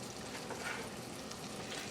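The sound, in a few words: stirring callaloo with black pepper and sun-dried tomato in pot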